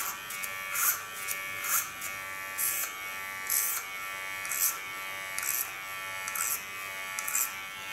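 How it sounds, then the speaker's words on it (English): An electric hair clipper buzzes steadily while cutting hair guided by a comb, with a regular pulsing rhythm of about eight short strokes, close and fairly quiet, with no talking. "my comb is guiding the hairs into my clipper"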